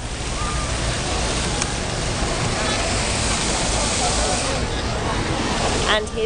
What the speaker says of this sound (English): This lovely waterfall.